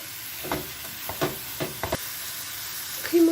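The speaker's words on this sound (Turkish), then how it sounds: "Kıymamla beraber tekrardan kavuracağım soğanlarımı." Onions and minced meat sautéing in olive oil, a soft steady sizzle with a few scraping stirs of a spoon in the pan, fairly quiet and close, no voices.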